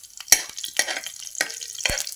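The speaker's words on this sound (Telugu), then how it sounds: "తర్వాత ఇందులో కరివేపాకు అయితే వేస్తున్నాను." Curry leaves hit hot oil for a brinjal chutney, crackling and sizzling close up, with four sharp stirring clatters from a spoon in the pan at regular intervals.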